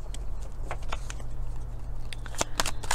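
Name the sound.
pulling tarot cards from a deck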